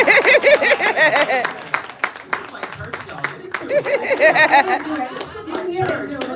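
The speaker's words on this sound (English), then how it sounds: "Let's clap for that." A studio audience claps in dense, lively bursts. Chuckles and a speaking voice come through over the applause.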